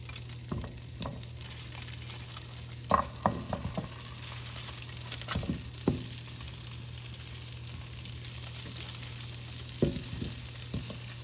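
Meat frying in olive oil in a cast iron skillet, a quiet, steady sizzle with occasional soft scrapes and taps of a utensil against the pan, under a low constant hum.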